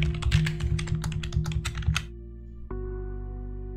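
A quick burst of clicky keystrokes on a computer keyboard as a password is typed, about two seconds of close, even tapping, then a faint steady hum.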